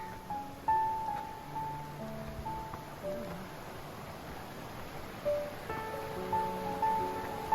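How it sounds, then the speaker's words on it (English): Fast-flowing mountain creek along a Colorado Trail hiking section, a continuous steady rushing roar with faint tones drifting in and out over it. "This creek must be flowing downhill fast here."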